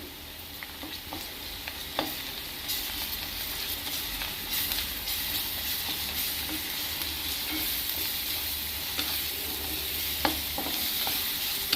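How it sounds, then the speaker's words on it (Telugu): Ginger garlic paste and black pepper frying in a pan for an ivy gourd (dondakaya) masala curry: a steady close sizzle with occasional sharp clicks of stirring, no talk. "ఇప్పుడు కొంచెం అల్లం వెల్లుల్లి పేస్ట్ వేస్తున్నానండి"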